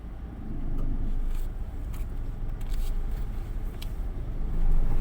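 Cars pass by on a narrow local road, a rolling engine and tyre rumble swelling and fading as vehicles go past close by, with no talking.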